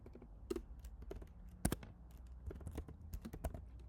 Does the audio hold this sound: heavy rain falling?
no